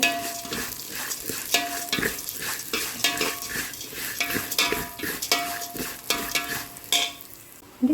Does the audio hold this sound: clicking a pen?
no